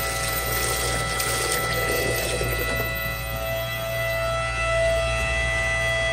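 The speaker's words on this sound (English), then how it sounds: "Ryobi 18-volt pump. Up to 325 gallons per hour. It's doing a good job." A Ryobi 18-volt hybrid transfer pump drains a water heater, giving a steady, close electric motor whine with a constant hum and flowing water throughout, unbroken and alone.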